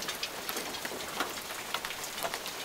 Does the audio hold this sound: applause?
no